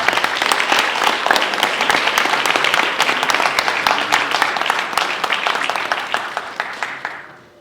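A theatre audience applauds after a Hindi stage play, loud sustained clapping from a full house that gradually thins out and fades at the end.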